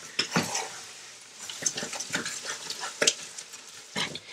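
Spoon stirring and beating a Haitian rice pudding mixture in a bowl, with repeated scraping clinks against the sides in an uneven rhythm, close and moderately loud, no talking.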